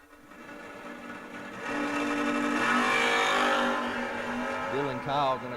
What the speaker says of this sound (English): Next up, we got Timmy Smith in the Vega Wagon on a 618, taking on Dylan Kyle in the first gen Camaro